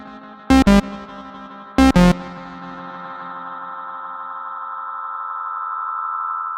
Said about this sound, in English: this intensity knob is where the sort of real character of the Space Echo comes in